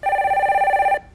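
A telephone rings for an incoming call on a Korean stock phone-in broadcast, a loud warbling electronic bell pulsing rapidly for about a second before cutting off into quiet.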